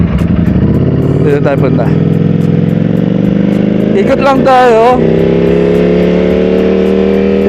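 A StreetFighter motorcycle fitted with clip-on handlebars hums steadily while riding, with a couple of short throttle blips rising and falling, close and loud under someone talking.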